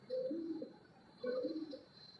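Pigeons coo softly in two short, separate low phrases about a second apart, close by against a quiet background.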